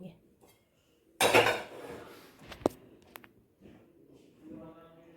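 Dishes, pots and utensils being washed in a home kitchen while tea brews, with a loud clatter of metal pans, sharp clinks of cutlery and soft knocks, and a voice speaking briefly near the end.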